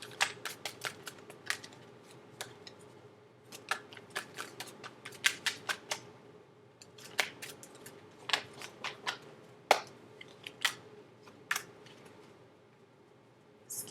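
Tarot cards shuffled by hand at close range, a run of quiet crisp riffling flicks and soft slaps in irregular bursts, with no talking.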